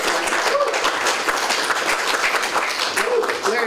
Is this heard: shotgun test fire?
no